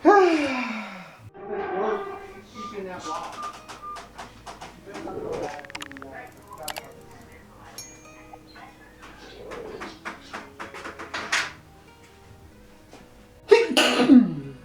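A single sneeze breaks out near the end, loud and close, after a stretch of sparse background sounds and faint movement.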